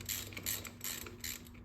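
A ratchet wrench loosens 12-point bolts on the Brembo front brake calipers of a 2009 Police Special motorcycle, producing four quick bursts of faint metallic clicking, close but quiet.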